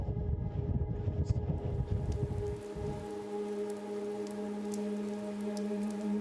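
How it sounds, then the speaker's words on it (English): Rain falls steadily outdoors on a film set, a dense hiss that thins after a few seconds, leaving a lighter patter over a constant low mechanical hum. "It's raining"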